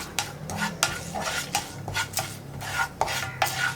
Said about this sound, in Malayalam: ഇതെല്ലാം ചേർത്ത് ഒന്ന് ഇളക്കി കൊടുക്കുക